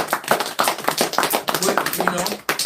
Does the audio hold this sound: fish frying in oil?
no